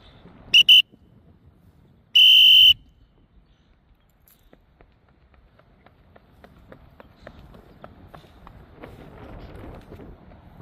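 Two sharp, loud coach's whistle blasts during a batting or hitting drill, a short one followed by a longer one, then quieter rhythmic thumps and movement noise.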